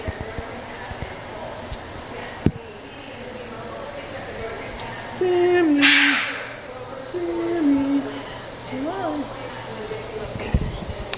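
Shrill bird screeches ring out in a few sharp bursts over steady background noise and some talking, one loud high squawk standing out in the middle.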